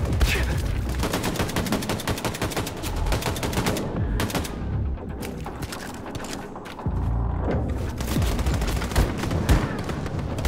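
Rapid, continuous gunfire from weapons in Wolfenstein II: The New Colossus, loud bursts and rattling automatic shots with heavy thumps, barely pausing throughout.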